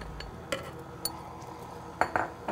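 Chocolate ganache cupcake mixture being stirred in a bowl, heard as a few sharp clinks and scrapes of a utensil against the dish spaced irregularly over a quiet room background.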